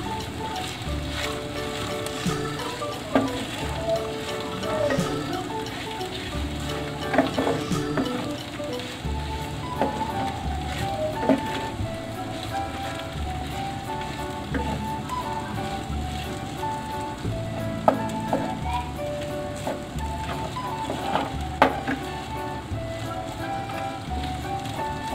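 Leftover fried rice is mixed and fried in a pan, giving a steady crackling sizzle with irregular scraping and stirring clatter throughout, continuous and moderately loud with no talk.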